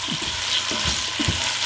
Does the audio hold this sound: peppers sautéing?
yes